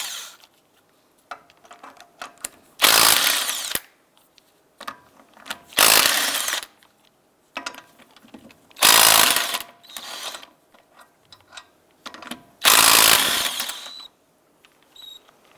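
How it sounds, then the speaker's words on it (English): Lug nuts come off a 2001-2007 Ford Escape wheel with a 19mm socket on a power tool, four loud buzzing bursts about a second each, separated by quiet pauses with small clicks and rattles. "go ahead and remove the lug nuts."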